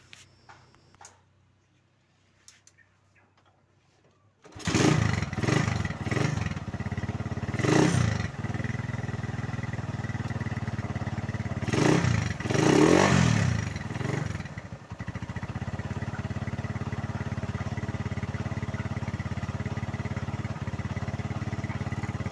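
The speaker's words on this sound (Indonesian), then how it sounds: "sekarang kita coba cek hidupkan motornya" Motorcycle engine cranks and starts after a quiet moment, then idles steadily with two brief revs in the middle, close and fairly loud, with no talking.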